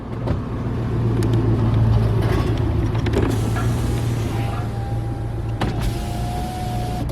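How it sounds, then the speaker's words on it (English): A Volkswagen Jetta's electric power window motor whines steadily as the glass rolls up. The car is heard from outside, close and fairly loud, and the window stops near the end with a faint thunk. No one speaks. "It's rolling back up. All of the windows are automatic."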